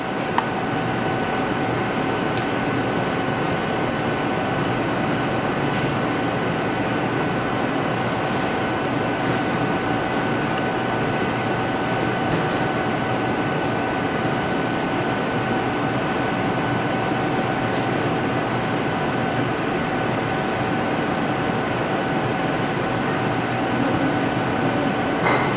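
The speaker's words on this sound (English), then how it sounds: "And now what it's gonna do is it's gonna pull the vacuum again." A MALDI mass spectrometer pumping down its vacuum gives a loud, steady mechanical hum and whir with two faint constant tones, unbroken for the whole stretch with no talk.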